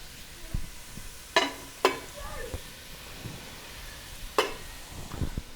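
Food sizzles in a hot pan after a splash of olive oil is added, with steady background frying broken by a few sharp clatters and scrapes of stirring, close and moderately loud.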